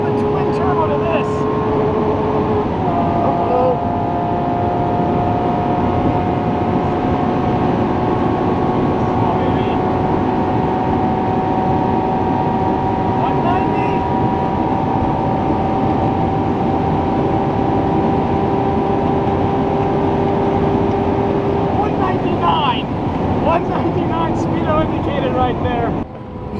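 Sustained loud engine roar from a 1400 hp twin-turbo Lamborghini Aventador SVJ during a top speed run, a steady high-revving drone held near the rev limiter for a long stretch, with a shift in tone near the end.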